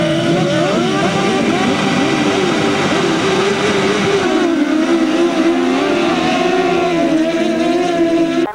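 Motorcycles racing at a 1995 grasstrack meeting, engines screaming in a loud, sustained whine that rises and falls as the bikes change speed, several machines overlapping nearby.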